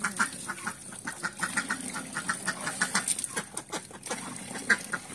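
A flock of hungry village ducks quacks busily and continuously while eating a mash of rice, bran and starchy rice water, many overlapping calls close by with no talking.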